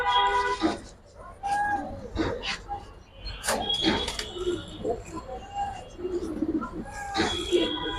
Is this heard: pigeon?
yes